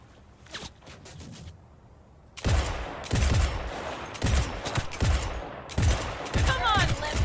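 Gunfire in Cyberpunk 2077 fills the scene: after a quieter opening with a few sharp shots, loud automatic bursts and rapid fusillades break out and repeat, close and heavy, with a voice calling out briefly over the shooting.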